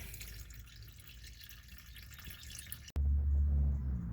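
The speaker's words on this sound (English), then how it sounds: "Alright, so it's just a drip now." Engine oil drips from the drain of a 2017 Buick Envision AWD 2.5 Ecotec during an oil change: faint, sparse drips over a quiet hiss, then a sudden loud low rumble of handling noise near the end.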